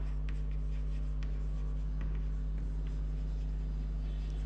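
Marker or chalk writing on a board during an accountancy class, a series of short scratchy strokes over a steady low electrical hum, with no talk.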